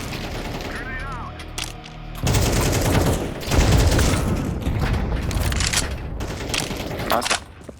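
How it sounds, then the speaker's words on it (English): A grenade blast and bursts of automatic gunfire crash through a tactical shooter video game firefight, loud booms and rattling shots following some voice chatter, the explosion hitting heavily midway. "Grenade out."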